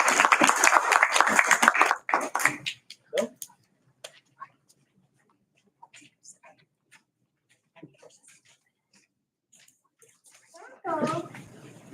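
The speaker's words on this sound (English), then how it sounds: "So let's give them all a round of applause." Applause for kindergarten children at a school board meeting, a brief burst of clapping up front that fades into quiet room noise, then a voice speaking near the end.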